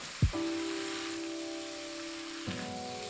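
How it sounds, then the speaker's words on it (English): Shrimp and bok choy are tossed and stir-fried in a hot pan: a short clatter followed by a steady, loud sizzle that holds throughout, with a second light knock near the end and no talking. "Then add bok choy and give it a quick toss."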